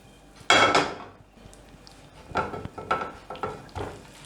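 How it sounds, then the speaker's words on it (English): A pan flipped onto a plate in a home kitchen while making a late-night snack: a loud metallic clatter and scrape, a quiet pause, then a run of lighter clinks and knocks of plate against pan. "So I take my plate, just flip it like this"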